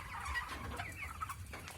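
Broiler chickens, 32 days old, in a contract-farm shed, murmuring and clucking together as a dense, continuous flock chatter, close and fairly loud with no talk over it.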